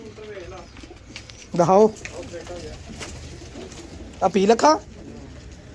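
Breeder pigeons and their chicks coo in two short bursts, close by, over a steady murmur of other birds, while someone talks through much of it.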